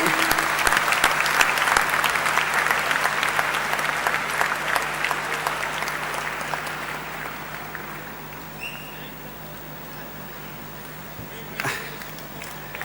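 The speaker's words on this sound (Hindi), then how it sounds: "जोरदार तालियां बजाएं" A conference audience applauds loudly, dense clapping that gradually thins and fades out, with a faint voice near the end.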